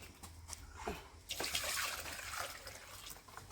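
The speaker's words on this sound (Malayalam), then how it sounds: "കുറച്ച് വെള്ളം കൂടി ചേർക്കുക" Water pours into a cup in a steady splashing stream for a few seconds, close and fairly quiet.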